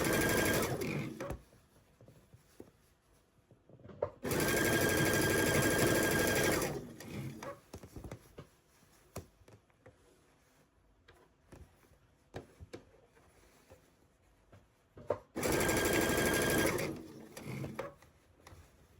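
A sewing machine stitches a sweater sleeve to fabric in three loud bursts of steady whirring, with quiet handling and fabric rustle between them.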